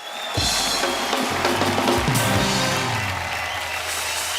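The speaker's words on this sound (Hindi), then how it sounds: "एक बार जोरदार तालियां हो जाए पूरे दिल्ली वासियों के लिए।" A studio audience at The Kapil Sharma Show, a Hindi comedy show, breaks into loud, dense applause that starts abruptly and holds steady for several seconds over low background music.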